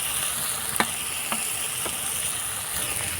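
Spice masala with a yogurt mixture and ginger sautéing in a pan, a constant sizzling hiss with a few light spatula taps spaced out across the clip, moderately loud and with no talking.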